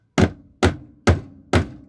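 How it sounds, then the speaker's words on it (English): A cake pan, filled with batter for a West Virginia funeral cake, is banged on a counter four times at an even rhythm, each a loud, close, dull thunk. "Give it a little bang to make sure that the air bubbles get out."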